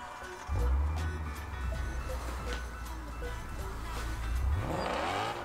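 Race car engine in the video game Gran Turismo Sport, a steady loud low drone that holds and swells as the car accelerates, with no talking over it.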